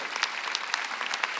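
Church congregation applauding during a Sunday worship service, a steady wash of clapping hands that holds throughout the short moment with no voices on top.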